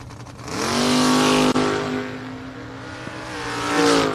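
A drag race car makes a solo bye run down the strip, its engine droning loud and steady with a rising, then held pitch as it pulls away.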